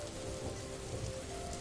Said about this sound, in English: the gentle rhythm of real-world raindrops on the pane blending with the echo of woodland lullabies